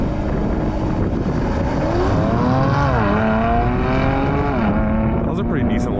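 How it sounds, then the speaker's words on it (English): A stock 2019 Mercedes C43 AMG with all-wheel drive launching hard, its engine loud and close, climbing in pitch with a rising harmonic drone and dipping briefly at each upshift. "That was a pretty decent launch"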